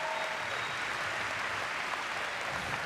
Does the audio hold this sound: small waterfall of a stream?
no